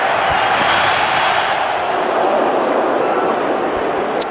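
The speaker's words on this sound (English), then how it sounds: "Listen to the crowd right behind the spearhead" A stadium crowd at a 2013 Ashes Test roars loudly and steadily as Mitchell Johnson, Australia's spearhead fast bowler, runs in to bowl, a dense continuous wash of cheering without a break.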